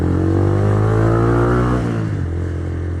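A 2010 Minerva R150 VX motorcycle engine revs loudly and close up, holding a steady drone before the pitch drops away as the throttle eases off, with no talking.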